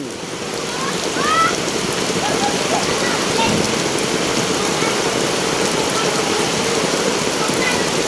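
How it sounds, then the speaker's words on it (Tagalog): Heavy rain pours steadily onto a flooded Republic Avenue street in Quezon City, a dense constant hiss with a few faint voices and children's cries audible beneath it. "Tuloy-tuloy pa rin ang pagulan."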